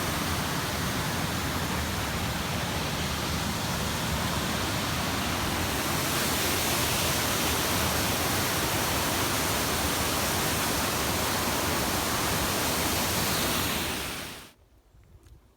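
Feather Falls on a creek in California pours with a loud, steady, unbroken roar of rushing water close by, holding constant before dropping away abruptly at the very end.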